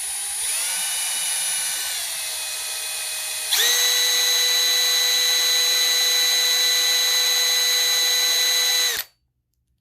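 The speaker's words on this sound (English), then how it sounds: "when I let go of the trigger, you could hear the clutch" A Milwaukee M12 cordless drill whines loudly at steady speed, then jumps to a higher, harsher pitch partway through before cutting off abruptly near the end, with no talking.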